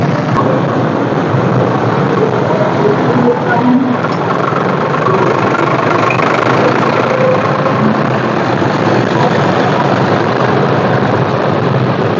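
A dense, steady rumble of many tractor engines running together in a rally in Karad, loud and continuous, with no clear breaks and no voices standing out.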